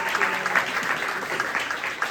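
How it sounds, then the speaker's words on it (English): Audience applauding as a school librarian comes up onto the stage, a steady, dense wash of clapping filling the whole stretch without a break. "We got to give her some applause."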